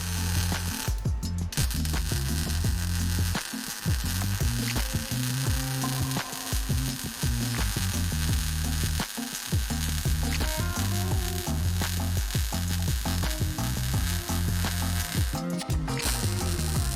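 Welding on the B-pillar of an Audi Quattro car body gives a loud, continuous crackling buzz that runs almost unbroken, pausing only briefly a few times before resuming.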